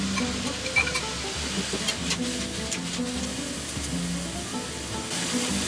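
Spinach and mushrooms sizzle in a hot pan with soft stirring scrapes under a steady, close crackle and hiss.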